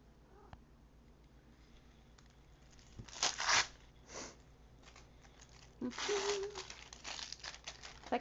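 A wax paper wrapper from a Star Wars Unlimited two-player starter set is crinkled and torn near at hand, bursts of crisp rustling in two main spells separated by quieter handling, with some soft sniffing and no clear speech.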